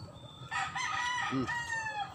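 A rooster crows once, loud and near, its drawn-out call rising and falling over faint background noise.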